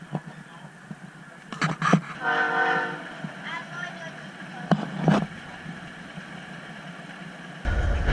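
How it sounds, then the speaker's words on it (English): A train at a transportation museum rumbles along with horn blasts sounding a couple of times, a steady mechanical hum underneath and some speech in between. "Get a nice train ride."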